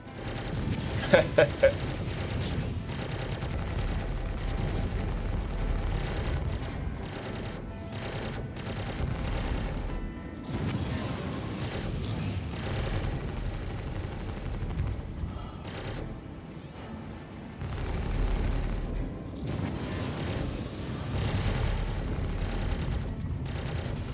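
Repeated blaster fire striking the player's ship during a space dogfight game, a constant stream of impacts and weapon noise with a few sharp cracks early on, while people talk over it.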